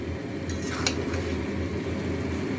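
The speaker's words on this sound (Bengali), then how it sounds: "মানে পেঁয়াজ সব দিয়ে এখন কষানো হচ্ছে।" Onions and marinated chicken for chicken kasha sauté in a pan with a steady close sizzle, punctuated by brief scraping and stirring strokes of a utensil against the pan.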